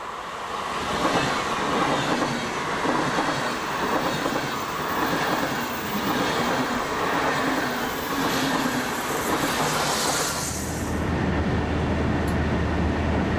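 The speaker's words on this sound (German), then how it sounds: "Nicht ganz so schnell rollen hier die Euro- und Intercity-Züge." A DB class 101 electric locomotive hauls an Intercity train through the Middle Rhine valley near Bacharach, wheels clattering steadily on the rails with a broad rushing roar that fades away at the end.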